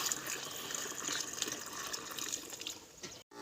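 Water gushing from a tap into a garden pump sprayer at a plant nursery, a steady close splashing fill that rises in pitch and stops abruptly near the end.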